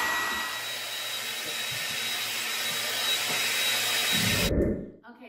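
A hair dryer blows hair dry with a steady, loud, close whir that cuts off abruptly near the end, followed by a brief rustle.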